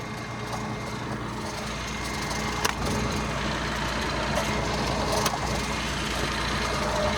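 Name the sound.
tractor engine running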